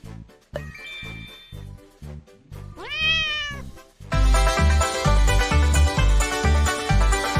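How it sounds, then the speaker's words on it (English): A cat meows once in a rising, drawn-out cry over a plinking musical backing in a children's farm-song game, followed by louder, busier music. "The cat goes meow."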